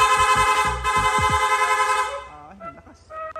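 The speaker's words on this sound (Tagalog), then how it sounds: "Pwede natin gawing rapid horn" A motorcycle horn set to rapid mode blares steadily for about two seconds, with rapid low pulses underneath at the start, then fades into scattered faint tones.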